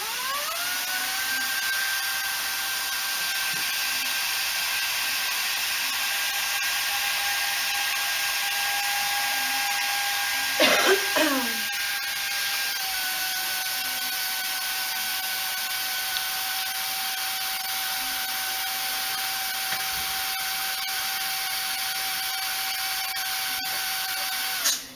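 A dental handpiece runs continuously to work lubricant through it, a steady high-pitched whine with a brief rustling disturbance around the middle, after which the tone drops slightly and carries on until abruptly stopping.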